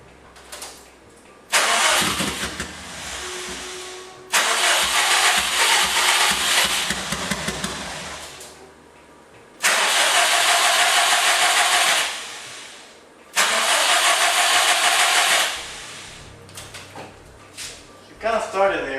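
A car engine cranks in repeated bursts after the fuel pump is primed, catching briefly and then dying, with loud sustained pulses separated by quieter gaps and some talk in between.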